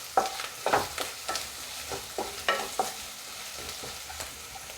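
Onions being stirred in hot oil with turmeric in a pan, a spoon scraping in irregular strokes over a steady soft sizzle, close and fairly quiet with no talking.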